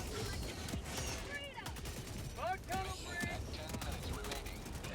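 Bursts of gunfire from a weapon in Helldivers 2, fired in short controlled volleys amid busy game effects, with a voice talking over much of the clip.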